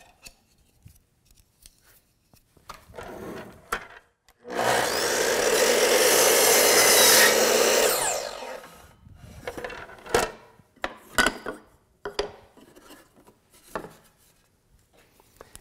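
A miter saw makes a single miter cut through crown molding for a fireplace bookcase, a loud steady whine-and-rip lasting about three and a half seconds, with quieter handling clicks and knocks before and after.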